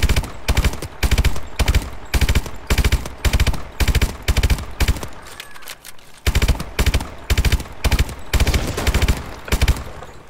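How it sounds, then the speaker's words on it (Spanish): Loud bursts of rapid automatic gunfire repeat in quick succession in a street firefight in Call of Duty: Advanced Warfare, with a brief lull before the shooting resumes, close and intense. "¡No deje de disparar!"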